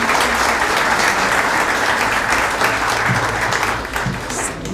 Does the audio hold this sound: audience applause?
yes